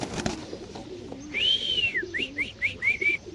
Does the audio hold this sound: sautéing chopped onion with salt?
no